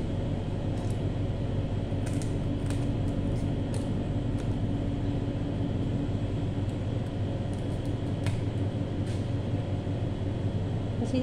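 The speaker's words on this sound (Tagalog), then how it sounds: "Pasensya na sa ingay, may ingay aircon na," A steady, low mechanical hum from an air conditioner drones continuously in a kitchen, with faint clicks and small clatters now and then.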